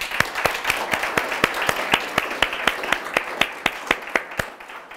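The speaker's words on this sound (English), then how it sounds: "Let's give these people a round of applause." An audience at a presentation on renewable energy gives a round of applause. Sparse, steady, evenly spaced claps sound over a moderately close, rhythmic clapping bed for about five seconds, then thin out at the end.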